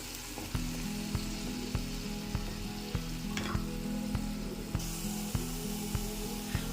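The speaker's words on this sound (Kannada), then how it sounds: "ಈಗ ಇದಕ್ಕೆ ಶುಂಠಿ ಬೆಳ್ಳುಳ್ಳಿ ಪೇಸ್ಟ್ ಹಾಕೋತಾ ಇದ್ದೀನಿ ಇದು ಅಷ್ಟೇ ಹಸಿ ವಾಸನೆ ಎಲ್ಲ ಹೋಗೋವರೆಗೂ ಚೆನ್ನಾಗಿ ಹುರ್ಕೋಬೇಕಾಗತ್ತೆ" Ginger garlic paste sizzling steadily in a hot pan, a continuous close frying hiss with regular light knocks from a stirring utensil and a low hum underneath.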